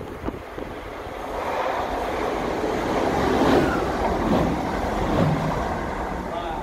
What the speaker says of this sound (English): there's a train coming now